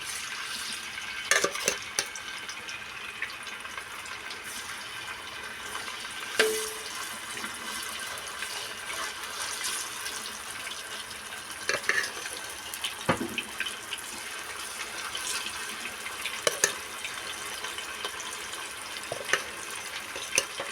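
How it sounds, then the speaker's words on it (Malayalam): Marinated chicken pieces fry in hot oil with a steady, dense hiss, broken by scattered pops and clatters as pieces are dropped in and moved around the pan. "നമ്മൾ പെരട്ടി വെച്ചിരുന്ന ചിക്കൻ്റെ ഇതിലേക്ക് ഇടുകയാണ്."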